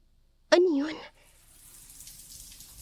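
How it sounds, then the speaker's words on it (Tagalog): Water running inside a bathroom during a spoken horror tale: a brief voiced sound comes first, then a soft, steady rush of flowing water begins and slowly builds while staying fairly faint. "paglagaslas ng tubig sa loob ng banyo"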